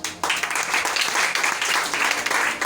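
A church congregation breaks into brisk applause, dense rhythmic clapping that carries on steadily throughout, close and loud.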